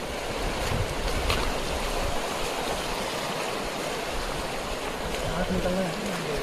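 River water rushes steadily and close by as people wade across a Hindi-speaking riverside crossing, a broad continuous wash of flow with faint voices mixed in underneath.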